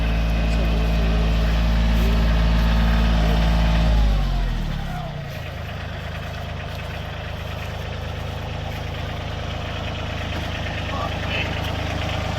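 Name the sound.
Kioti 24 horsepower tractor engine idling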